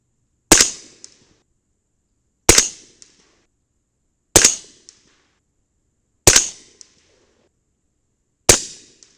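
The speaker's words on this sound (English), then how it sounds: "let's shoot at the left center dot" A 300 BLK rifle with a 10.3-inch Ballistic Advantage Hanson barrel fires subsonic 220 grain Sierra MatchKing rounds, giving five sharp, evenly spaced reports about two seconds apart, each trailing into a short decay with no talking.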